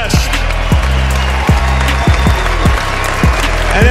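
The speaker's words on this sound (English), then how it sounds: "how about a round of applause for two warriors who just fought a classic heavyweight slugfest?" A boxing crowd applauds after a ten-round heavyweight bout, a dense, steady wash of clapping and cheering that carries at a constant loud level throughout, with a few sharp thumps standing out.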